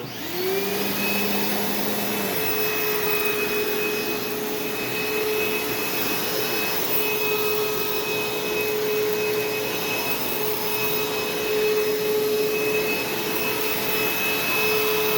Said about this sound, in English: here comes the Dirt Devil Swivel Glide in 3, 2, 1